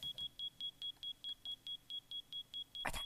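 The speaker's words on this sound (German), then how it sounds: "dieser Rauchmelder funktioniert wirklich" A smoke detector alarm in Minecraft gives a rapid run of about fourteen short, evenly spaced high beeps. The run ends in a brief louder burst of noise.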